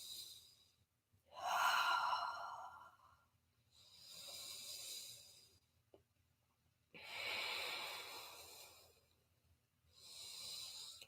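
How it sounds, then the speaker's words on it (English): Slow, deep breaths during a live yoga session, four long airy inhales and exhales separated by short pauses, close and clear with no talking over them. "Deep breaths, deep breaths, deep breaths."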